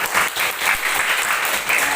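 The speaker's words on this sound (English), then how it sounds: "Give applause for you all." Brief burst of classroom applause from students in an English lesson, brisk close clapping in quick uneven waves.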